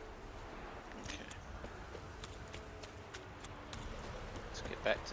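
A horse's hooves clip-clop at a walking pace in The Witcher 3: Wild Hunt, faint and steady beneath game sounds and a scattering of clicks.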